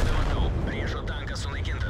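Tank cannon fire and battle rumble roll through a tank video game featuring an LTTB light tank, as a loud, continuous blast-heavy din plays under a speaking voice.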